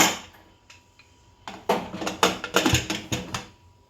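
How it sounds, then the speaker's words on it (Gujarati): A pressure cooker lid is fitted and locked shut in a home kitchen after rice for Kathiyawadi masala khichdi, giving a quick series of close metallic clicks and clanks that build into rapid rattling. "અને આપણે કુકર બંધ કરી દઈશું"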